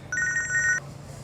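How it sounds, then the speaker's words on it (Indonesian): A telephone rings indoors with a bright two-tone electronic trill, one burst lasting under a second, loud and close, then stops. "Ada telepon dulu"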